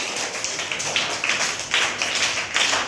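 A classroom of children clapping together for a few seconds, a dense, fairly close patter of applause with no talking.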